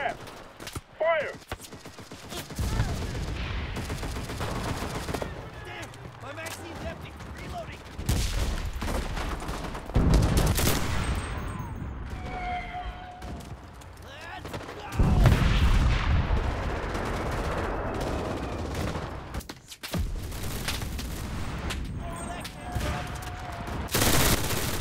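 Artillery barrage in Enlisted on the Normandy invasion map, repeated heavy booms and blasts across the whole stretch mixed with rifle and machine-gun fire, and shouted voices between impacts.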